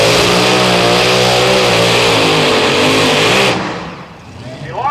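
Blown tractor pull truck roaring at full throttle, a loud, close, continuous engine bellow with wavering pitch that cuts off abruptly, leaving quieter rumble before it picks up again; a commentator talks over it.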